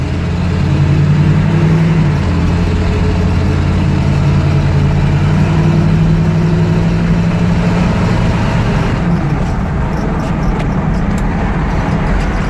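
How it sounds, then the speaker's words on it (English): Engine of an old 1976 GMC Jimmy truck idling steadily for several seconds, a loud, even low-pitched rumble with no voices over it. "Just sat on pause for a few minutes here and let it idle."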